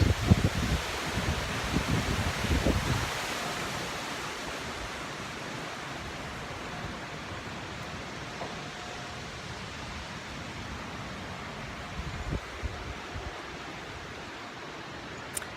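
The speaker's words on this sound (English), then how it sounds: "Listen to that wind." Steady wind blows outdoors on a fine day, a continuous broad rushing hiss with slight gusts near the start, heard alone without any voices.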